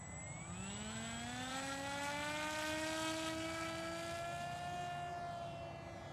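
A Parkzone Icon A5 model plane's electric motor whines in flight off water, a steady buzzing drone rising smoothly in pitch as it speeds up and passes close by.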